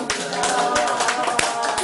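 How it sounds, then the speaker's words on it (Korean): A room full of adult learners at a lifelong-learning centre lecture claps in unison, a close, lively burst of rapid hand claps with quick rhythmic strikes over a couple of seconds. "한 분도 빠짐없이 덜렁박수를 쳐주셨네요"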